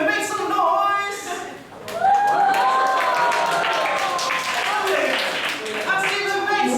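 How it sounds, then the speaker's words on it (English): Audience clapping and cheering for performers introducing themselves on stage, a sustained crowd roar with applause mixed under excited voices and shouting. "When we introduce ourselves, give us the biggest applause, okay?"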